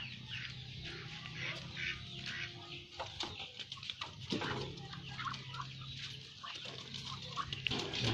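Domestic ducks in a rural Philippine backyard give repeated quacks and clucking calls at moderate distance, with other farm birds and ambient yard noise around them.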